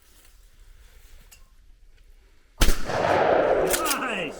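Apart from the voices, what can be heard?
gunshots at a shooting range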